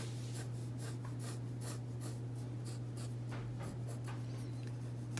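A pencil sketches a mug on paper in steady, repeated scratchy strokes at close range. The soft rhythmic scraping sits over a constant low hum.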